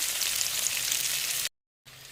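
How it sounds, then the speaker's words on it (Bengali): Chopped onions hit hot oil with a loud, steady hiss and crackle, alongside dried chillies, a bay leaf and five-spice; the sizzle cuts out briefly, then resumes. "ধরে রাখা পেঁয়াজগুলো দিয়ে দিলাম পেঁয়াজ কুচিগুলো তেলের মধ্যে দিয়ে"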